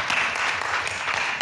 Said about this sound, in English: I want to very much applaud the students who came here today